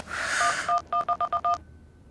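A phone number being dialled: a short noisy burst, then a quick run of about seven crisp keypad tones at an even pace, close and clear.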